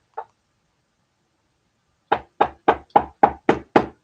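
Hard taps on a wooden table: a single knock, then after a pause seven sharp, evenly spaced raps close by, loud and alone with no talk.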